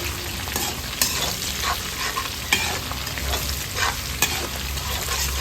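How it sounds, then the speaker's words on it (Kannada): Red and green chillies frying in oil for chilli chicken, a steady close sizzle with a few sharp scrapes and clinks of stirring, no voices. "ಚೆಂದ ಫ್ರೈ ಮಾಡ್ಕೋಬೇಕು ಈ ರೀತಿಯಲ್ಲಿ"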